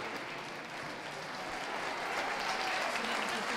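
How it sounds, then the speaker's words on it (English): Audience at a championship dog show applauding as dogs leave the ring, a dense, steady round of clapping that swells slightly toward the end, heard from across the hall. "A round of applause, please, for those leaving the ring."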